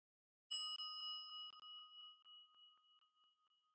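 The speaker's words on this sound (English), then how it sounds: "The sound of the gong" A single gong struck once, its bright metallic tone ringing out clearly and slowly decaying with a shimmering pulse over several seconds, heard alone and close.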